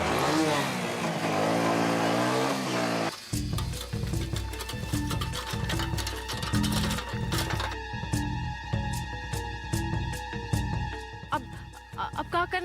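A motorbike engine revs up and pulls away, the mid-pitched rumble rising over a busy background of voices and other sounds.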